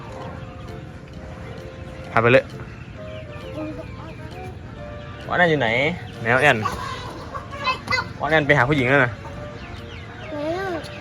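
Chickens cluck in short bursts while being chased, with excited voices talking and calling out over them nearby.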